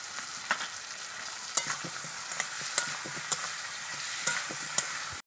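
Cumin and chili paste frying in a pan for a rohu fish and radish curry: a soft continuous sizzle with sharp spatula taps and scrapes at irregular intervals, close and fairly quiet.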